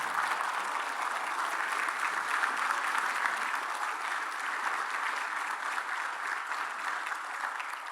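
A church congregation applauds in a steady, dense wash of clapping that holds evenly throughout, with no voices standing out.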